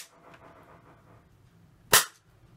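A spring air pistol fitted with a silencer fires a single sharp shot, a brief loud crack after quiet handling noises, with no talk.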